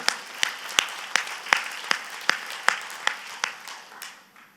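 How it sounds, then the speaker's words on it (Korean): A church congregation at a Korean sermon claps together in a regular, brisk beat, roughly a dozen crisp claps that gradually thin and fade at the end, with no voices over them. "하나님께 박수를 영광"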